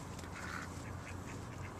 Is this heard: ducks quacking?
yes